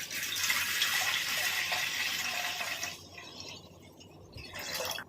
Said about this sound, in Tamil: பால் ஊற்றிடுவோங்க.